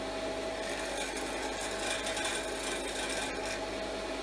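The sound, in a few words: sheep shearing grinder rattling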